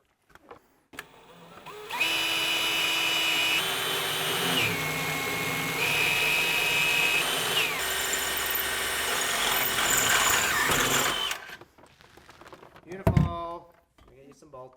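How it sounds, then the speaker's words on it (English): A power drill bores through a part on a C5 Corvette, a loud continuous whine lasting several seconds with pitch shifts as it cuts, followed by quieter clatter and a thunk. "I'm just gonna drill through here and through the back side"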